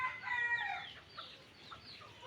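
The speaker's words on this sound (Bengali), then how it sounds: "এই যে বাকি মুরগিগুলো এখানে আছে, এটা খোপাহালা মোরগটা।" Chickens and a rooster cluck faintly in a backyard, a soft, low-level murmur of calls that is strongest at the start and fades to quieter scattered clucks, with no one speaking.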